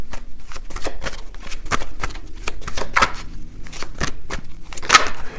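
Tarot cards are shuffled in quick crisp bursts, papery riffles and snaps repeating close and fairly loud, with no voice over them.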